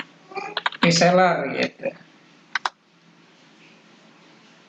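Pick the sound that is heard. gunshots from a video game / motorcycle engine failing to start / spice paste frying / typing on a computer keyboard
typing on a computer keyboard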